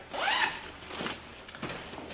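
A zipper is pulled along a Lenovo laptop carry case in one quick, close rasping sweep, followed by a few softer fabric rustles and small clicks, with no talking.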